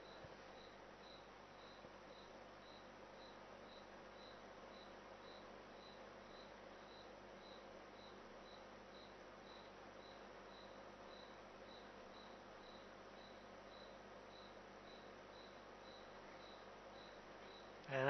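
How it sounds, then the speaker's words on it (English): Frogs calling outdoors in a faint, steady chorus of rapid, evenly pulsing high trills that continue unbroken with no voices. "I'll let you guys listen to the frogs"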